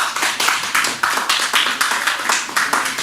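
An audience at a comedy club bursts into applause, a dense burst of hand clapping with uneven rhythmic peaks, close and fairly loud with no talk over it.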